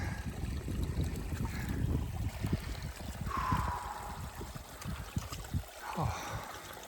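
A mountain stream runs through fall-colored Goat Rocks Wilderness near Goat Lake, giving a steady close rush of flowing water that lasts throughout, with a few faint higher calls over it.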